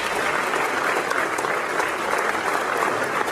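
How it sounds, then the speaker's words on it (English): An audience applauds legislators who came to inspire them at an evening talk, steady dense clapping filling the room throughout with no one speaking. "let's give them a round of applause"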